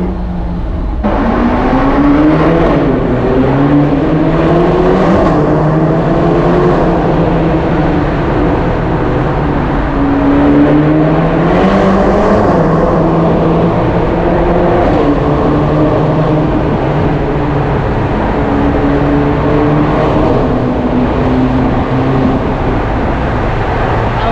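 A Ferrari Portofino accelerating hard on the road, heard from inside the car as a loud, continuous engine roar that climbs in pitch through several gear changes, each rise falling back before building again.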